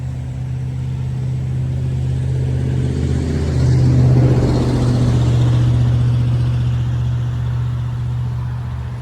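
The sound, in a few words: 6.2 liter V8 truck engine revving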